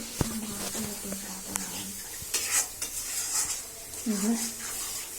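Biryani masala being stirred into mutton in a pot, with a spoon scraping and knocking against the metal pot in irregular strokes over a low sizzle, and a brief voice heard once.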